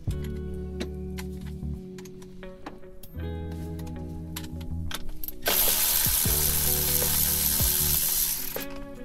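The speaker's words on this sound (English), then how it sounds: "next we're going to use a 1/2 inch socket and we're going to remove the battery cables." Clicking of a 1/2 inch socket ratchet loosening battery cable terminals on a Club Car Onward/Precedent golf cart, with repeated close mechanical ticks and bursts, then a louder hissing, rushing stretch near the end.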